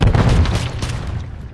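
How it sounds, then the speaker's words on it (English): Stun grenade exploding in a Call of Duty video game, a single heavy low boom right at the start that rumbles and slowly fades. "Throwing stun grenade."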